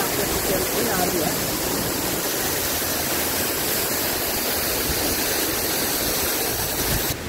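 Water falls like rain inside the Gupt Ganga cave, a continuous, loud, even hiss and splash with no break throughout.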